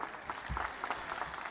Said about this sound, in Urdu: آپ منظور ہیں تو تالیاں بجائیں بہت ساری۔